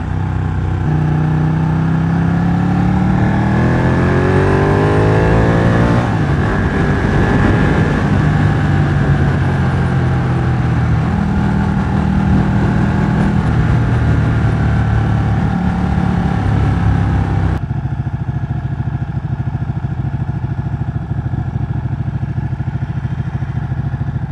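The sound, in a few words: Ducati 1199 Panigale motorcycle accelerating on open road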